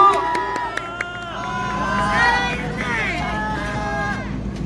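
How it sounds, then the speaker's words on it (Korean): A crowd at an outdoor student rally opposing an impeachment in Marronnier Park cheers and applauds, with overlapping shouts and a steady hubbub of many voices holding fairly loud throughout. "큰 박수로 맞아주십시오."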